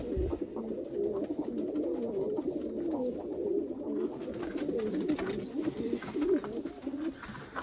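Boskilli pigeons in a coop coo in a low, steady, overlapping murmur, close and continuous, with faint rustling and occasional small knocks.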